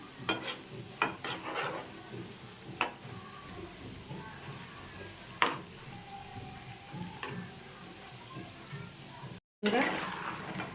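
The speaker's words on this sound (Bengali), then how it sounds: "কম আছে আমি এগুলোকে ভেজে নেব।" Pieces of goja dough fry in oil with a constant sizzle. Sharp utensil clinks and scrapes from stirring break in now and then, and the frying grows louder again near the end after a short cut.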